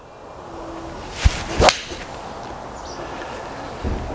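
Callaway iron clubs striking golf balls on a driving range: a sharp click of contact followed by a second crisp strike and a brief airy swish, set against steady wind and outdoor background noise.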